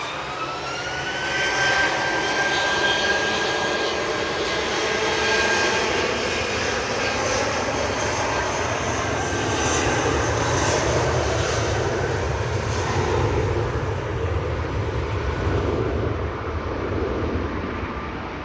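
An Airbus A319 departs for London Heathrow, its jet engines a loud, steady roar that holds for the whole stretch, with a rising whine over a deep rumble and no voices.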